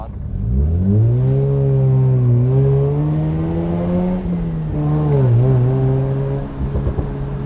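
A Mazda RX-8 accelerates hard in a long, loud, steady rising engine note that holds, dips briefly as a gear changes, then climbs again before easing off near the end, with no talking over it.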